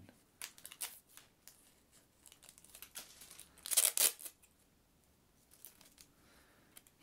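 Scissors cutting fabric during a close-up gentleman's suit fitting: soft, sparse snips and crisp cloth rustles, with one louder burst of cutting in the middle. The sound is quiet and near overall.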